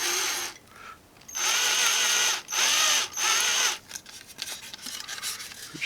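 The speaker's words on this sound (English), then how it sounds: "Use a drill slightly smaller than I should" A small hand drill bores a hole in a large 84-inch span F8F Bearcat model plane, running in several whining bursts with short pauses between, close and loud.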